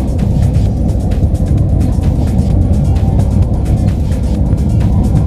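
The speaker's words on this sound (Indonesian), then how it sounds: "Nih salib nih, ini laju prima menyalip teman-teman." A Laju Prima intercity bus overtakes on the Semarang–Jakarta toll road, a steady loud engine and tyre roar heard from inside a moving vehicle, with broadband road rumble throughout and no talk.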